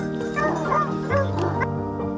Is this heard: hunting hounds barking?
yes